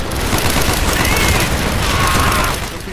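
Dense, continuous automatic gunfire from an MP4 in Call of Duty: Black Ops, loud and sustained with overlapping shots and no speech.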